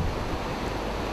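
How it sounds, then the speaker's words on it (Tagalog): Large ocean waves surge against the shore in Cagayan during a super typhoon, heard as a dense, roaring wash with wind buffeting the microphone throughout. "Naglalakihan din ang mga along humahampas sa pampang."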